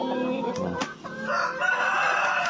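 On a small chicken farm, a rooster crows loudly and close by while other chickens, mostly native crosses, cluck and squawk around it.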